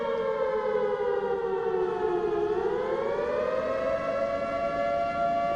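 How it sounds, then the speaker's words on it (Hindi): A civil defense siren sounds for a mock drill in Araria, wailing steadily, its pitch dipping and then rising again, loud and continuous with no voices. "फाइनली अब जो सायरन बजना शुरू हो चुकी है और जो है सायरन की आवाज़ अब आपको सुनाई पड़ने वाली है।"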